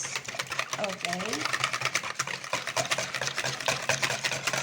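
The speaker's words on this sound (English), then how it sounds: "I now whisk my wet ingredients" Rapid, steady whisking of milk, oil, eggs and vanilla in a bowl, a dense continuous rhythmic clatter that runs throughout, heard close up with a person talking over it briefly.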